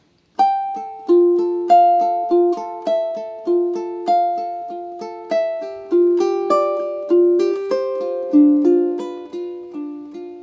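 A ukulele plays measures 23 and 24 of a theme from The Legend of Zelda, a run of about a dozen plucked notes and chords in an even, gentle rhythm, each one ringing out, close and alone.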